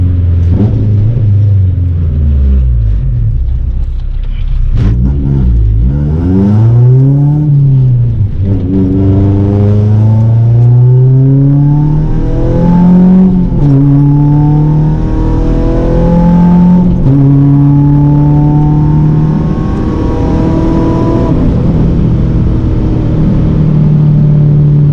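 A swapped Honda Civic is driven hard, its engine revving up through the gears again and again in long rising sweeps, loud and close with a deep rumble and no talking.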